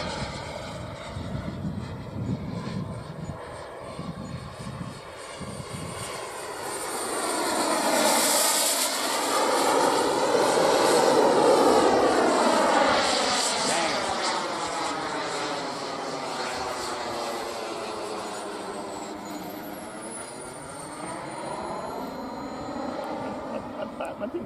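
Model Viper jet with a Kingtec 210 turbine running on the ground, giving a steady whining roar with sweeping pitch shifts that swells in the middle and then holds, with faint voices underneath.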